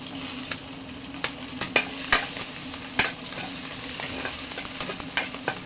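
Garlic sizzles in hot canola oil with a steady frying hiss, broken by sharp clinks and scrapes of stirring in the pan, close and alone.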